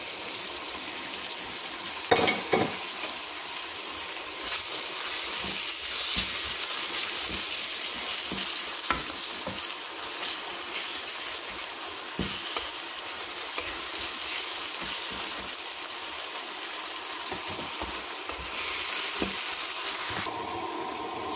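Squid sautéing in a pan for ginisang pusit, a steady loud sizzle running throughout with occasional stirring clatters and brief sharper crackles.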